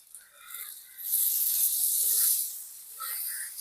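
Okra frying on a hot tawa for a spicy bhindi fry gives off a steady loud hiss and sizzle that swells and eases as it cooks, heard alone and close.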